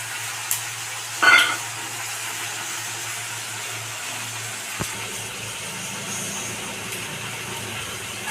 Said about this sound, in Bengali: আদা রসুন আর অল্প পেঁয়াজ পেস্ট আমরা তেলের মধ্যে দিয়ে দিলাম।